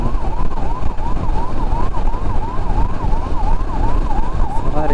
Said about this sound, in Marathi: ॲम्ब्युलन्सच्या समोरून तर सरा, ॲम्ब्युलन्सला थोडा जागा द्या सरा